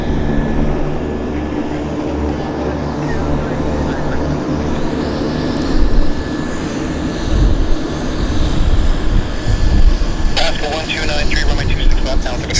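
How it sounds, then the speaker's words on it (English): A CRJ regional jet taxis at Vancouver YVR airport, a loud continuous engine whine and rumble that fills the whole stretch with a faint high tone on top, while people talk over it. "CRJ taxiing out."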